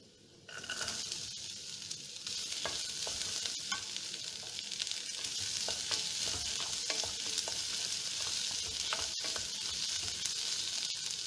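Finely cubed large onion sizzles in a hot pan for chilli beef while a spoon stirs it, with steady loud frying hiss and scattered scraping clicks throughout and no talking.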